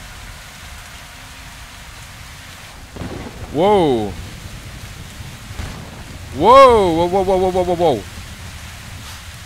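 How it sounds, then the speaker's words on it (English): Steady rain and gale-force wind in the video game Metro Exodus form a constant hiss, while a voice exclaims briefly twice with drawn-out, wavering tones. "Oh, it is rain. It's blowing a gale."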